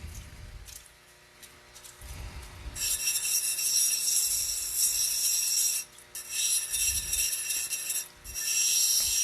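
An opal stone is shaped against a grinding wheel, with a steady high grinding hiss that swells loud in long bursts and drops away between passes, low thumps of handling in the gaps.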